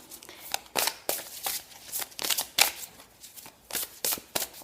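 A deck of oracle cards is shuffled by hand in a quiet room, a run of crisp riffling bursts in an uneven rhythm, close and clear.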